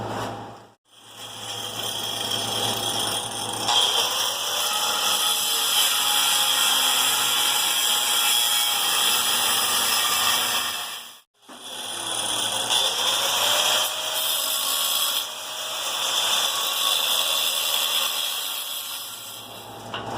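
A power tool cuts a ladder pattern damascus steel billet into pieces, a steady loud hissing whine that runs in two long passes with a brief stop between them, no talking.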